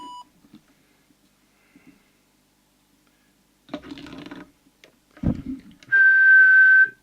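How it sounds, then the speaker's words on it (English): A whistle is blown into a Cobra UK75ST 80-channel CB radio microphone, preceded by brief rustles and clicks, then a single sustained steady tone near the end. "I'll check it with the whistle test."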